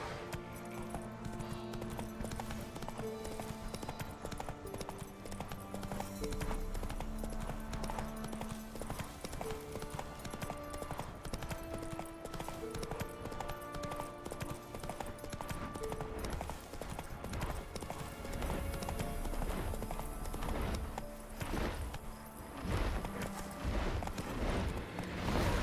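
Horse hooves clip-clop steadily in The Witcher 3: Wild Hunt, a continuous trotting rhythm under game music and ambient sound, with occasional faint voices.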